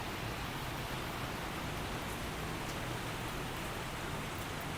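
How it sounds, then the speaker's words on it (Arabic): Steady rain falls outdoors as a continuous, even hiss of dense drops, fairly loud and unbroken, with no voices or other sounds over it. "اجواء كالعادة مطر"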